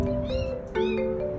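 A tiny lost kitten meows twice in quick succession, thin high-pitched cries heard close and clear with nothing else over them.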